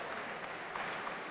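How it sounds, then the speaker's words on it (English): Applause from the audience at a boxing match at Robin Park Arena in Wigan, a brief steady wash of clapping with no voices over it. "please give a round of applause to both Ricky Starkey and Omar Dusary."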